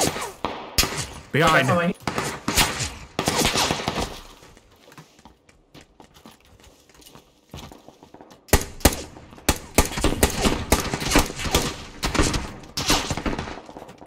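Gunfire in the video game PUBG: bursts of rapid shots and scattered single cracks, loud in clusters at the start and again after a quiet stretch midway, with brief speech in between.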